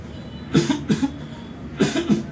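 A doctor imitates a mild, slow, closed-mouth cough, the kind of tickling cough from the larynx, giving four soft muffled coughs in two pairs, close and clear.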